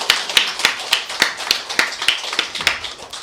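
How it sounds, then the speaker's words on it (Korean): Hands clapping in a steady rhythm during a church testimony service, about a dozen distinct sharp claps, close and fairly loud, with no talk over them. "그래가지고 하나의 영광의 박수 올립니다."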